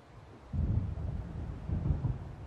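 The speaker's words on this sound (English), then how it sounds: "It seems there's a storm coming." Low thunder of an approaching storm in the video game Alan Wake rolls in after a quiet start, two deep rumbling swells over a soft background hush.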